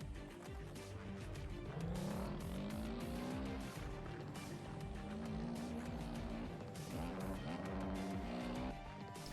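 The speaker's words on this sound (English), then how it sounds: "if you roll down a hill and pick up some speed, you can drop the clutch and the bike will start" A motorcycle in the MX Bikes racing game bump-starts and roars into a sustained, rising engine rev, loud and continuous, with pitch sweeps as the throttle changes.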